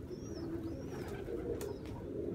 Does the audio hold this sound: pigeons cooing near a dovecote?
yes